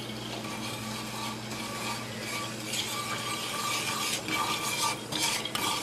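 Chickpea flour stirred quickly in a hot pan over medium-high heat, a steady sizzle with scraping and clinking of a utensil against the pan, continuous and close.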